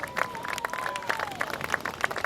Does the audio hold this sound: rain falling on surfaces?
no